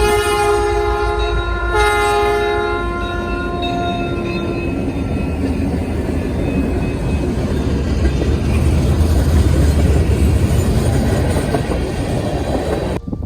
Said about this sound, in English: Next was the road switcher crossing the diamond as it began its run towards Fairlane